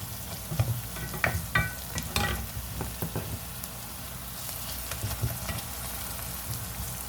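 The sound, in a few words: stirring onions frying in a pan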